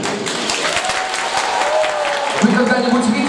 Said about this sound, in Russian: за эти потрясающие аплодисменты